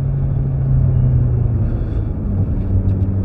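An Alpine A110 S with a 1.8-litre four-cylinder engine gives a deep, steady snarling drone from inside the car, loud and unbroken with no talk.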